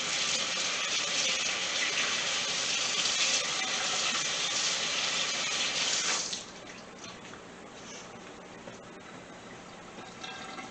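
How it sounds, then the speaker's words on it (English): A kitchen tap runs steadily and loudly while hands are washed under it, then the flow stops abruptly about two-thirds through, leaving quieter faint handling sounds and drips. "I'm going to wash my hands."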